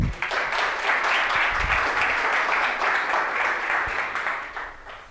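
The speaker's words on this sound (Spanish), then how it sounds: "nos damos un fuerte aplauso y empezamos con la charla" A lecture audience breaks into loud, sustained applause that holds evenly before tapering slightly at the end, with no speech over it.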